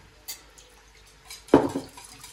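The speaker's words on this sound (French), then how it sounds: "Ensuite, je vais mettre ma pulpe de tomate." Thick tomato pulp slides from a container into a tagine with one soft, wet plop and brief splatter, after a light clink of utensils against the dish.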